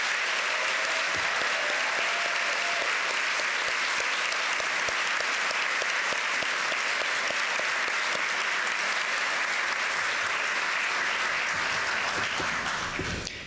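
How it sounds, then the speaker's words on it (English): Audience at a school's 8th grade recognition ceremony applauding the teachers, a sustained even round of clapping in a large room that holds steady before fading at the end. "would you please join me in a round of applause for our teachers?"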